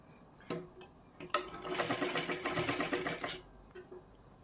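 A sewing machine stitches small triangular frills on a blouse in one short burst of about two seconds, close, preceded by a few light clicks and handling taps.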